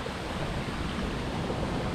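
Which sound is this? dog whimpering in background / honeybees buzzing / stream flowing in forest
stream flowing in forest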